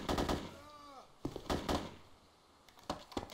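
Gunfire in the video game Arma 2, a few loud broadband shots in separate bursts, with a voice speaking through part of it.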